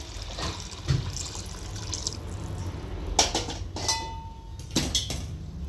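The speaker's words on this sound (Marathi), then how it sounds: "मी बाजूला गरम पाणी करत ठेवलेलं ते यामध्ये घालणार आहे" Hot water pours and splashes into a pot of whole masoor lentils, a steady liquid rush with a few sharper splashes and drips, no voices.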